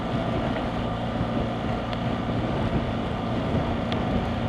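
Steady wind roaring and buffeting around a motorcycle rider on an exposed ridge, a dense continuous rumble with low booming gusts, close and loud throughout, with no voices.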